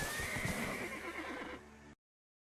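A horse whinnies in the video game Crimson Desert, a fairly soft high neigh with snorting over steady game ambience, ending in abrupt silence after about two seconds.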